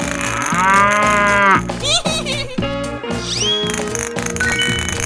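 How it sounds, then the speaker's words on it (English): Cow mooing from a children's cartoon about animals, a drawn-out low moo heard over bouncy music that carries on throughout. "cow,"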